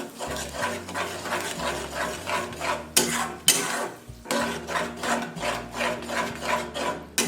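A spatula scrapes and stirs four-egg bhurji in a pan over medium heat, rhythmic rasping strokes repeating steadily and close, with a couple of louder scrapes partway through.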